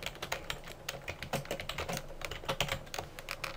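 Fast typing on a computer keyboard, a dense run of light, irregular key clicks close up and fairly quiet, with no voices over it.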